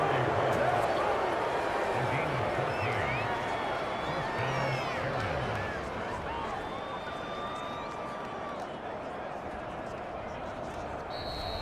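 Stadium crowd noise from a Madden football video game, a steady broad roar under sports commentary, with the murmur fading slightly toward the end.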